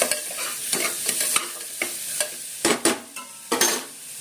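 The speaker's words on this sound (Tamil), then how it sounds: "தேவையான அளவு உப்பு இதெல்லாம் போட்டு வதக்கி விட்டுக்குங்க." Chilli powder, salt and spices being sautéed in a pan for spinach rice, with repeated scraping stirs over a steady, close sizzle and no talking.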